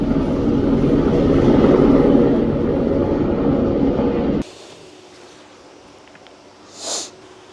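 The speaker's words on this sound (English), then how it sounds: "Another helicopter is taking off." A helicopter taking off in Nepal, a loud, steady rotor and engine roar close by for about four seconds that then cuts away to a quiet background with one brief faint whoosh near the end.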